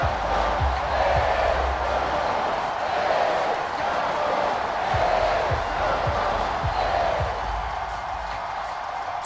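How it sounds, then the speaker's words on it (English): A home crowd at an arena football game sends up a loud, sustained roar of cheering that fills the arena, with scattered thuds underneath. "The home crowd's loving it."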